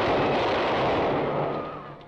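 A volley of gunfire shooting prisoners in a 1949 period film set during the French Revolution. The single loud, dense blast decays into a fading rumble over about two seconds.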